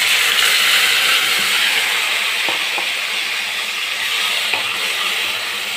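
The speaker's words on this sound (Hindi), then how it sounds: "प्याज के जो मैंने मसाले पीसे हैं वो मैं इसमें डालूँगी" Ground onion masala hitting hot oil in a pan while making bottle gourd kofta curry, giving a steady broadband sizzle and hiss that holds throughout, with a few faint clicks of stirring.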